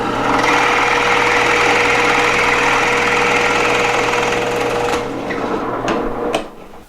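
A drill press bores a large-diameter hole with the help of a guide jig, giving a loud continuous motor drone and cutting whir that eases off near the end, followed by a few light knocks.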